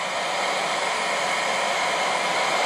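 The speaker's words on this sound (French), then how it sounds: "Et toutes ces petites bulles, il faut les enlever au décapeur thermique." A heat gun blows across a resin table to pop small surface bubbles, a loud continuous broadband hiss of rushing hot air with no break, close to the listener.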